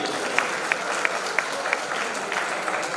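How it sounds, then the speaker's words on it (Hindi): A room of listeners at a radio listeners' conference in Buldhana gives a guest a round of applause, dense clapping with regular sharper claps standing out, steady and fairly close throughout. "भैया जी का स्वागत करेंगे, जोरदार ताली होनी चाहिए"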